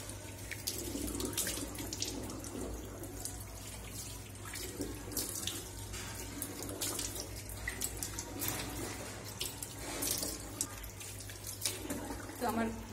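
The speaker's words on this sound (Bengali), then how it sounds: "আর এখন আমি মুখটা ধুয়ে নিব জল দিয়ে।" Tap water runs steadily into a sink while someone washes their face indoors, a continuous splashing flow with light spatter and a low background hum throughout.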